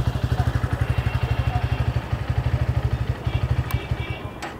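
A 2023 Bajaj Pulsar P150 motorcycle engine idles nearby, a steady rapid thumping exhaust beat that runs evenly throughout, slightly fading near the end, with no talk over it.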